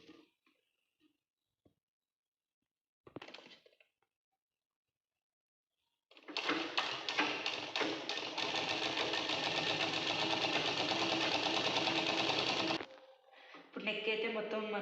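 A sewing machine stitches a long frock in a steady, continuous whirring run of several seconds, preceded by a few brief clicks and quiet pauses, with another short burst of stitching at the end.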